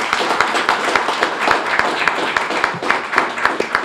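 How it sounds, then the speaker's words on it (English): A round of applause from the audience at a city arts and culture plan unveiling, fairly sparse and close, with distinct individual claps in an uneven rhythm. "So give yourselves a round of applause,"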